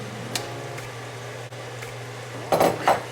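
Tomatoes drop into a pot of sopa de concha with ground beef, a couple of short clattering thuds near the end over a steady low kitchen hum, preceded by faint utensil clinks.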